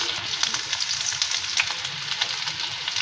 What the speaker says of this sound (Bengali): ভালো করে নেড়ে চেড়ে ভেন্ডি, আলু, পেঁয়াজগুলো ভেজে নিয়েছি লাল লাল করে